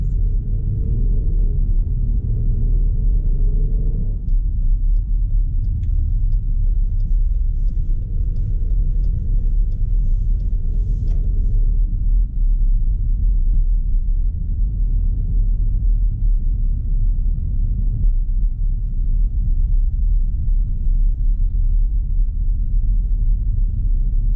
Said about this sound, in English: this was the test drive of the 2021 Dodge Durango GT